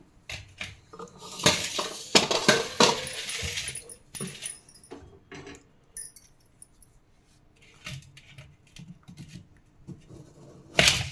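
A knife cutting hard jaggery knocks and scrapes against a metal bowl in a run of sharp clattering hits, then quieter taps and a final loud clink.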